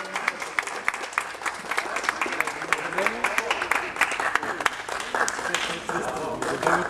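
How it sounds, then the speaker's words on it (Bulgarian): Applause for the winners at a Dimitrovgrad Cup cycling race awards ceremony, a steady wash of crowd clapping lasting the whole stretch, with voices and a loudspeaker announcer talking over it. "Аплодисменти още веднъж за победителите."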